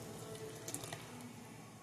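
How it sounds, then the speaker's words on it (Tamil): Coconut milk pours into a curry in a home kitchen, a faint, steady liquid stream lasting under two seconds with a few small splashes, no voices. "இப்போ நான் தேங்காய் பால் ஆட் பண்ணிக்கிறேன்"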